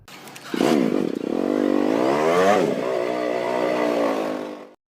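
A CD70 motorcycle fitted with an 82 silencer, recorded and played back at triple speed, giving a loud, continuous high-pitched buzzing whine with wavering, rising and falling pitch sweeps for about four seconds, then cutting off abruptly.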